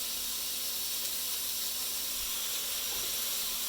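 Broccoli stir-fried with ginger and garlic in a pan over raised heat gives a steady, even sizzling hiss, close and fairly quiet, continuing without talk.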